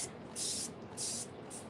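Short spray bursts of water misted onto a painted outdoor furniture cushion, three hissing pulses in quick succession, fairly close and quiet.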